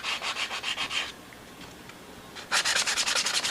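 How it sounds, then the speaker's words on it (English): A sanding block is rubbed over wood edges in quick rhythmic back-and-forth strokes, one burst for about a second, a pause, then a louder second burst, close up with no talking. "Take a sanding block, nice smooth edges"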